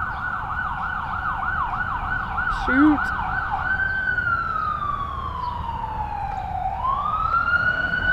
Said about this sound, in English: Ambulance, oh no.